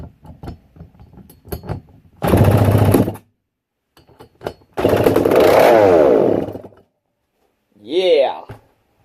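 A McCulloch Super Pro 125 chainsaw engine roars close and loud in three separate bursts, rising and falling as it revs, with quiet gaps and small clicks between runs.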